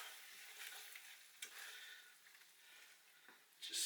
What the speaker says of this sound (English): Stir all that in nicely.